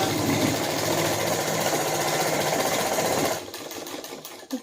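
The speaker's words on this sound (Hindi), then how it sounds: "यहाँ पे मशीन में लगा के हमें फिर यहाँ से सीधी सिलाई लगानी है" A sewing machine runs fast and steadily, stitching a straight seam along the hem of a suit, loud and close, then slows and stops near the end with a few lighter mechanical clicks.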